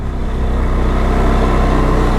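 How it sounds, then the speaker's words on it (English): A 2023 CFMOTO CFORCE 625 quad's engine runs loud and close, a steady droning rev with an uneven, slightly hunting pitch and no speech. "yeah, the revving needs to be sorted out"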